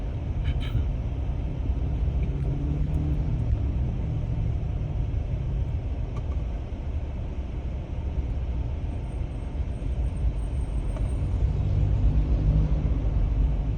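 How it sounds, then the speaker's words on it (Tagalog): Steady low rumble of road traffic going past, a continuous broadband roar that swells slightly near the end, heard alone without talk. "Traffic."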